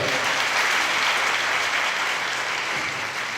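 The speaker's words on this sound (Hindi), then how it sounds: "एक बार जोर से तीनों के लिए ताली हो जाए।" Loud, steady applause from a large audience at a gospel gathering in India, a dense wash of clapping that fills the room without a break from start to finish.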